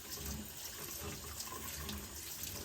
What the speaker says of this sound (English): now I'm gonna wanna turn on the hot water and give this a good rinse